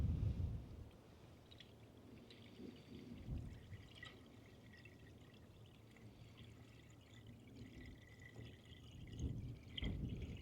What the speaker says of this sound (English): All right, let's add some coolant to it.